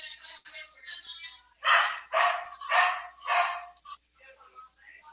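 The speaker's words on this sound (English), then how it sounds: "Barky dog." A dog barks four times in a quick, evenly spaced burst at moderate distance, with softer voice-like sounds before and after the barks.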